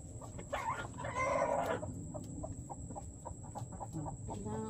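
A hen clucks at a farm, a soft run of repeated clucks set against faint outdoor background noise with a steady high whine.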